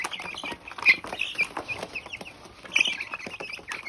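Local farm chickens give short, bright clucks and chirps in irregular bursts, with the louder calls standing out near the start and again toward the end over a low background of farmyard noise.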